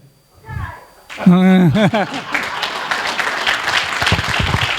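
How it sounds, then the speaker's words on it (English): An audience at a Darwin Day lecture on Alfred Russel Wallace in California claps, a steady wash of applause running beneath voices that speak over it. "I thank everybody for the applause."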